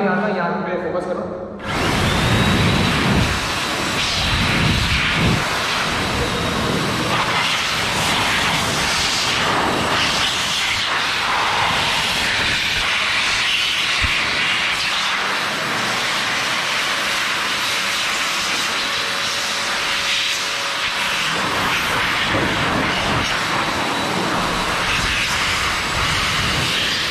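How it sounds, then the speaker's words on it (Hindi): A high-pressure air blower dries water off a freshly washed Yamaha MT-15 motorcycle, a loud, steady rushing whoosh that holds close and constant for nearly the whole stretch after a brief quiet start, with a faint tonal whine partway through. "अब हम इस पर यूज़ करने वाले हैं ब्लोअर। ब्लोअर से हम लोग पानी हटाएंगे"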